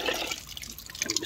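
Plenty of water is poured into a container of liquid fertilizer, diluting it before it goes on vegetable and flower plants. A steady splashing, gurgling pour plays at close range, with no talk.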